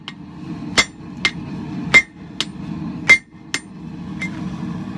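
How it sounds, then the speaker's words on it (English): Hot steel is hammered on the horn of an anvil while a ball peen hammer is forged into an eye punch: about seven sharp, ringing blows at an uneven pace, close and loud. "I'm just using the horn of the anvil to draw the material out a little quicker"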